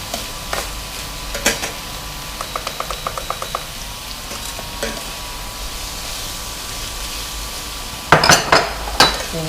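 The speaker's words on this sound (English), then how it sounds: "So I'm gonna just add all the bacon in." Bacon fries in an overly hot pot for spaghetti carbonara, a steady sizzle broken by quick runs of utensil clicks and scraping, then louder metallic clanks from the pot near the end.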